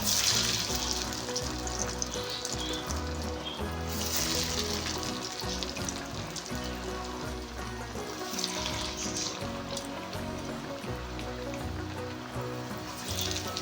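Black-eyed pea vada batter dropped into hot oil in a kadai, sizzling and crackling in a steady, continuous hiss at close range.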